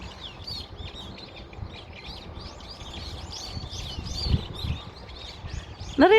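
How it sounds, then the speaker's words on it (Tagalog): Many birds chirp and sing together outdoors in the morning, a busy layered chorus of repeated high calls over a faint background hum, with a short louder call at the end. "Awit ng mga ibon."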